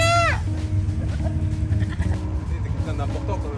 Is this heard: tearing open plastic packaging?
no